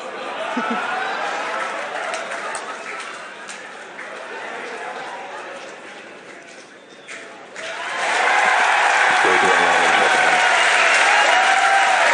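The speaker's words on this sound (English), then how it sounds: "The crowd cheers here." A crowd watching a SpaceX Falcon 9 rocket landing in December 2018 applauds and cheers, a broad roar that dips briefly then surges loudly, with voices talking over it.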